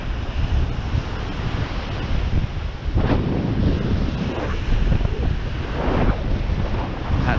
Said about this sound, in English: That tide really is pushing in now.